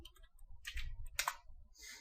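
A few soft computer mouse clicks in quiet surroundings while opening Notepad, brief faint taps spaced across a short moment.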